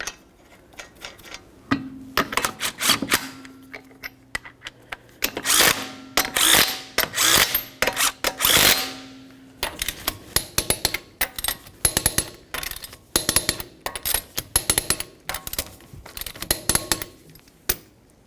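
Power tool running 19mm wheel lug nuts onto a 2003-2007 Honda Accord, loud close bursts of rattling impact and whirring with clicks between, repeated on several nuts.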